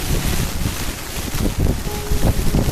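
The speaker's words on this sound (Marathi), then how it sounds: "वारा आणि पाऊस खूप जोराचा चालू आहे" Strong wind and rain buffet the microphone at Umbrella waterfall near Bhandardara, a loud, steady gusting roar with low rumbling surges throughout, and no voices.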